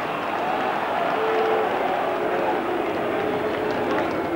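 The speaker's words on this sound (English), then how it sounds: "So sympathetic applause for Oliver." Sympathetic applause from the crowd at a 1992 Midlands versus South West rugby match, a steady broad wash of clapping and crowd noise throughout, fairly loud and continuous with some distant stadium murmur.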